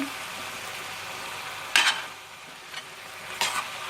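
Tomatoes going into a pan of frying onions and peppers, a steady low sizzle with a few sharp bursts of stirring and scraping.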